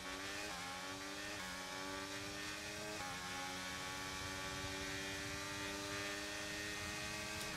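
McLaren race cars in the F1 23 video game roar past, with loud, high-pitched engines whining continuously and stepping through quick gear changes, and no voices.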